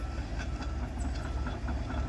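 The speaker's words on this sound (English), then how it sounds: "We do have a train passing over the area of the derailment." A train rolls slowly over the track at a derailment site under a slow order, a steady low rumble and rail noise running continuously throughout.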